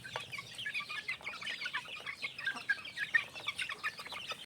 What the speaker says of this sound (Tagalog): Inilagay ko na nga ang patuka nila sa scratch pen at yan nagkagulo na sa pagtuka.